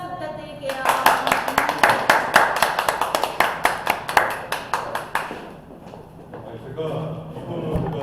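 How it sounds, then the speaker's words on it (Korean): Audience applause for the guest lecturers at a New Year's special lecture event, a burst of sharp, close claps that swells and then fades out after several seconds, with voices murmuring underneath. "큰 박수 부탁드릴게요"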